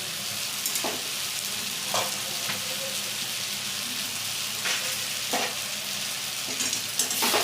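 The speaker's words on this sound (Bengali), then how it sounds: "এবার ভালো করে মশলার সাথে মিশিয়ে নেব" Chicken fries with spices in a pan, giving a continuous sizzle with repeated scraping stir strokes every second or so.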